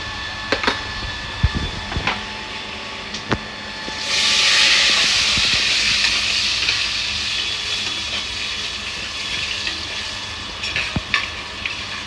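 Cumin and mustard seeds dropped into hot oil for dal, a sudden loud sizzling hiss that settles into a steady crackling fry, with scattered clinks and taps before and after.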